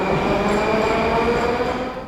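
A Moscow Metro train on the Circle Line pulls out of Prospekt Mira station, a loud continuous rumble and roar of wheels and motors with faint squealing tones, easing slightly at the end.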